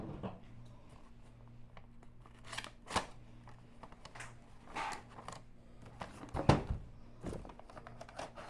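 Scissors cutting wrapping paper to trim a present's wrap, several separate crisp snips and paper rustles spaced irregularly, close and fairly quiet over a low background hum.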